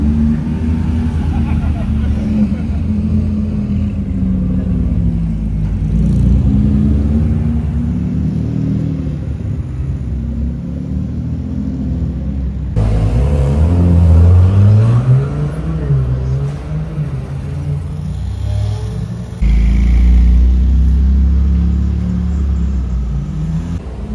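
An 812 GTS sports car engine rumbles and revs on the street during the Monaco Historic Grand Prix, with a rising and falling growl up close and someone talking over it.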